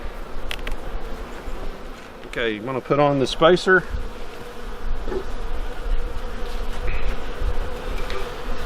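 Dense buzzing of many honey bees inside an opened hive in winter, a steady close drone throughout, with a person briefly speaking over it.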